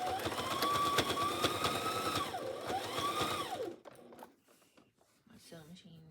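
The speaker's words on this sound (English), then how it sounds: "I'm going to sew it with a back stitch" A sewing machine whirs steadily while back-stitching binding ends on fabric, its motor pitch rising and dipping as it stitches, then stops, leaving a few quieter mechanical clicks and soft handling sounds.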